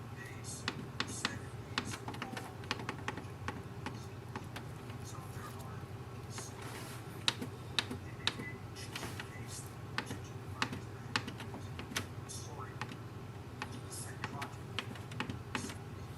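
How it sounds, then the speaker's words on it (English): Soft repeated clicks of control panel keys being pressed on a Canon Pixma G3160 printer, irregular taps spread across the stretch over a low steady hum, close and faint. "enter the password using the control panel"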